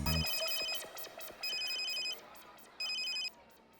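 A landline telephone bell rings in three distinct bursts, loud and close, with short silent gaps between the rings, in an indoor domestic setting from a Hindi sitcom.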